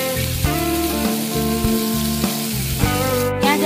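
Chopped onion sizzles in hot oil with mustard seeds in a pan, a steady loud frying hiss with regular sharp stirring clicks and scrapes, close by.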